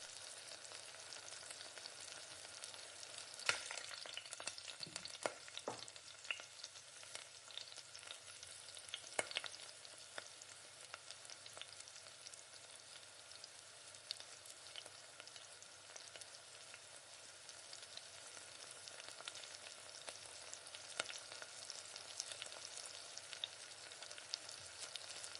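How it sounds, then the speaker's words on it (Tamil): Mint and coriander leaves sautéing in a pan for chutney, giving a soft, steady frying sizzle with occasional faint stirring clicks and scrapes, quiet and close, with no talking. "நல்லா பச்சை வாசனையெல்லாம் போகிற அளவுக்கு நல்லா வதக்கி விட்டுக்கோங்க"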